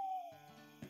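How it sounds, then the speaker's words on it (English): An owl perched at a windowsill gives a single short hoot, a clear falling tone that fades quickly, with a faint soft thump right after. "An owl perches at your windowsill."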